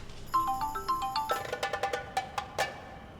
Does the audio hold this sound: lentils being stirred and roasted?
no